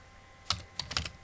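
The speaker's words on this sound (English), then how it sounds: "Okay, so I'll just type her name, Gigi teacher." Short bursts of clicking keystrokes on a computer keyboard as a name is typed, quiet and close, in a few quick clusters with no talking.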